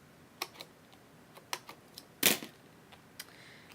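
Tiny pieces of paper trimmed for a handmade birthday card, with sparse, light clicking snips and one louder, brief crisp cut or rustle partway through, close up against a quiet background.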